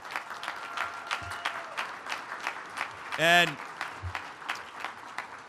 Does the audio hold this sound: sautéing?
no